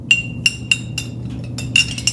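A spoon stirs warm water and sugar in a glass, giving about ten bright clinks against the side in a quick, uneven rhythm, close and clear with no talk.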